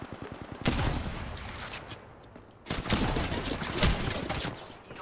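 Gunfire in a shooter video game crackles in rapid bursts, a rattling volley, a short lull, then heavier sustained firing with sharp individual shots, loud and close, with no voices over it.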